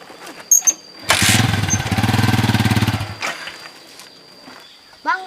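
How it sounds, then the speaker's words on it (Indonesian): A motorcycle engine cranks and catches, then runs with a loud, rapid pulsing chatter for about two seconds before cutting out, leaving quiet background sounds. "Bang, kenapa motornya?"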